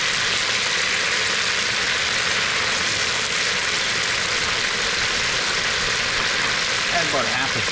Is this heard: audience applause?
no